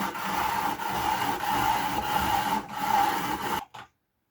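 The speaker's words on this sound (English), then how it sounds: "I am going to grate a carrot with my handy dandy shredder, and I'm using the fine grater" A carrot is rubbed against the fine side of a handheld kitchen shredder, making a steady, close raspy scraping that runs in continuous strokes for a few seconds, then stops abruptly with a short final scrape.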